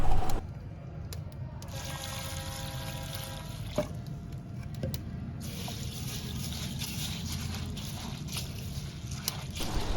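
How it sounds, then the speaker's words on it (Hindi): Mash lentils are washed in water, with steady close sloshing, swishing and trickling over a continuous hiss of running water and a few small clinks from the bowl. "दाल को अच्छी तरह साफ़ करके धो लेंगे।"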